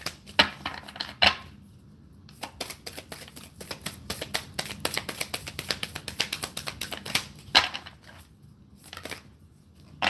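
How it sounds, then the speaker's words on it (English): Close, quiet card shuffling: a dense run of soft rapid clicks and flicks, with a few sharper taps at the start and end. "These don't shuffle very good."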